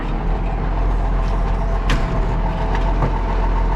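An IH 1466 tractor rolling along in gear after being pulled from mud, a loud, steady engine drone with a few faint clanks over it.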